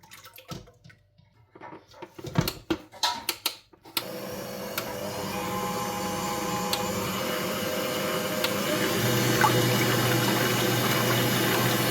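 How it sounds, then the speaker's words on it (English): Egg whites being whisked for a small Ghanaian party cake, heard as an electric mixer's steady continuous whir that starts abruptly after a few seconds of scattered clatter and runs on loudly to the end, with no talking. "At this time we are going to whisk the egg whites."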